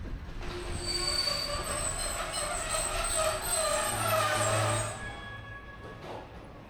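An old sleeper train rolls slowly into Bucharest North Station with loud, high wheel squeals and rumbling carriages, then quiets as it comes to a stop.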